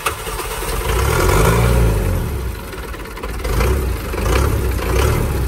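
The engine of a 3-ton wooden boat starts and runs, loud and close, rising into a steady drone with a few swells in revs and no talking.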